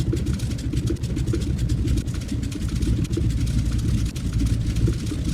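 A de Havilland Beaver radial engine idles in cold weather in a flight simulator, throttled back to a steady, dense low rumble with a slight uneven pulse throughout.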